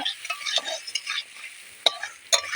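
A spatula stirs pomfret (rupchand) fish curry frying in a pan, with a steady hiss of sizzling oil and a few sharp scraping clicks close by. Nobody speaks.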